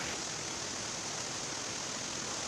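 Steady broadband rush of a river flowing past a forest riverbank campsite beside a simple banana-leaf bivouac, a continuous close wash of water with no breaks and no voices.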